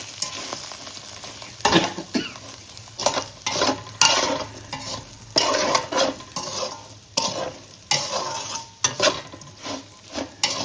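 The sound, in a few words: spice mixture being stirred and fried in a pan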